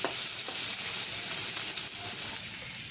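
Two raw fish fry in hot oil in a village kitchen pan where garlic was just fried, giving a steady, fairly loud sizzle throughout with no voices.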